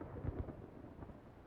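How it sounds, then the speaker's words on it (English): A thunderstorm rolls in within a fantasy video game: a low, soft rumble of distant thunder with light rain texture, faint and brief. "there comes the storm"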